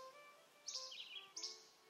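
Two bright bursts of song sparrow song ring out a little apart, each a quick trill of chirps, fairly close and clear over a quiet background.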